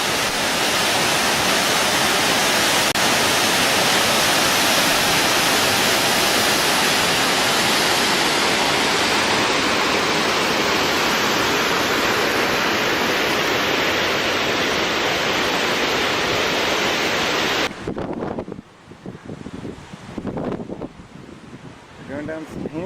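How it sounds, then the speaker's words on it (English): Yosemite Creek at the top of Yosemite Falls rushes loudly and steadily in a dense roar, likely mixed with wind buffeting the microphone, then drops off sharply toward the end, leaving a thinner, patchier wash. "Yosemite Creek"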